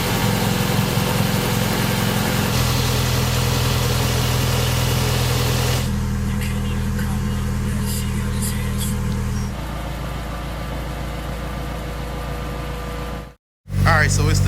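A car engine idles steadily while warming up to operating temperature, a constant low rumble and hum that shifts in tone partway through before briefly cutting out near the end.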